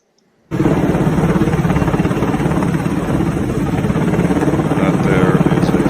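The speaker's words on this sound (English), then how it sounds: "helicopters, Apache helicopters, as I understand it" Low-hovering Apache military helicopters over Washington, DC, a loud, steady rotor throb with a whining engine tone that starts abruptly after a brief silence and continues unbroken.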